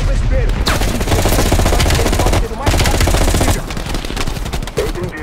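Sustained automatic gunfire in the video game Call of Duty Black Ops Cold War, dense rapid bursts of rifle and machine-gun fire filling the scene loudly with brief pauses, a fusillade close up.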